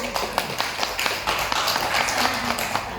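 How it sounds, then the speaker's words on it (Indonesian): Audience clapping at a marketing plan presentation in Padang, a dense patter of many hands at moderate volume that runs through the whole stretch, with some voices mixed in. "Tepuk tangan dulu."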